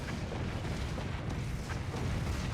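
A cascading chain-reaction explosion in the artillery building game Forts, a dense rumbling burst of booms rolling continuously at moderate volume with no voices.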